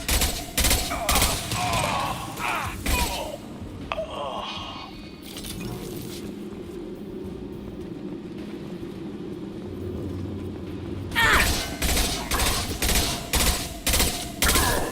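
Rapid bursts of gunfire from the video game Mass Effect 2, loud volleys in the opening seconds, a quieter stretch of game ambience with voices in the middle, then a fresh string of sharp shots toward the end.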